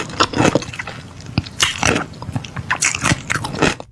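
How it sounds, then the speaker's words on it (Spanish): A person bites, chews and swallows cucumber very close up, with loud, wet crunches in uneven bursts separated by brief pauses. "Va a escuchar personas masticando y tragando alimentos."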